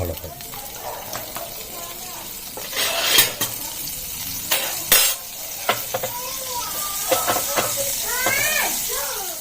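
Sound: butter melting and sizzling in a hot pan

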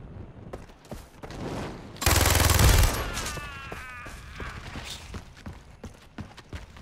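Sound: video game gunfire

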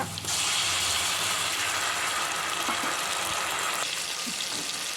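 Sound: onions frying in pot for vegetable biryani

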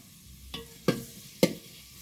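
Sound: frying chopped onion in oil, stirring on stove

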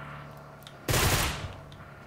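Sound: gunfire in the video game PUBG Mobile

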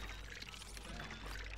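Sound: water pouring sound from video game Dome Keeper

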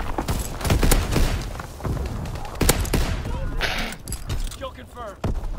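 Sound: gunfire in video game Call of Duty WW2

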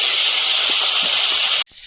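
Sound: fish head frying in hot oil

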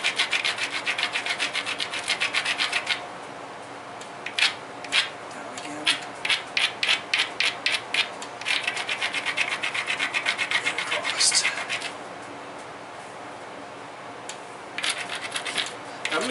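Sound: grinding the edge of a novaculite flint knife preform

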